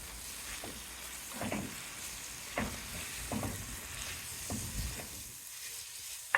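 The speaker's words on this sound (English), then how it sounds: "Our onions and peppers have been boobling away nicely." Onions and peppers for chili con carne sizzle quietly in a pan, a low, steady frying hiss broken by soft irregular pops and scrapes, with a sharp click right at the end.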